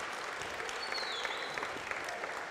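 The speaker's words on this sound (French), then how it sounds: "On avait dit qu'on s'applaudissait," An audience at a French panel discussion on Europe's demographic challenges claps together, a soft steady patter of many hands heard at a moderate distance.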